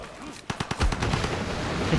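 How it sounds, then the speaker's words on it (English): A Gatling gun fires in the strategy video game Civilization 5, a quick burst of several sharp, rapid shots followed by a lingering crackling rumble. "The Gatling gun can fire twice?"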